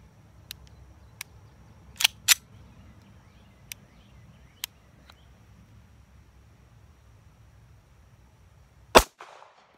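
Walther CCP pistol trigger resetting, giving a handful of sharp, isolated low clicks spread unevenly over the stretch, with a louder click near the end over a quiet room.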